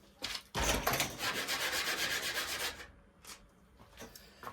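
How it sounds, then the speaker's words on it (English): A burst of close, loud sanding rasps on a cigar box guitar at a sanding station for a couple of seconds, then trails off into softer scraping and light knocks. "I'd go over to my sanding station"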